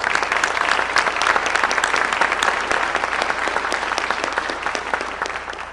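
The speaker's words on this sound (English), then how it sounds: "Can we give them a round of applause real quick?" Sustained applause from a news conference audience, steady dense clapping at full volume throughout, tapering slightly toward the end.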